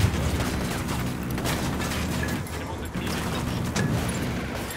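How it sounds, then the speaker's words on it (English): Video game gunfire in Tom Clancy's Ghost Recon Wildlands during an assault on a Unidad base, a dense, continuous stretch of shots and booming impacts lasting several seconds, fairly loud. "Opening fire."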